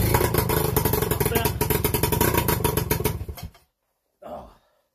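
An MBK 51 Lee Cooper moped engine runs with a loud, fast, rhythmic two-stroke putter, then sputters and dies, followed by silence and one short faint sound.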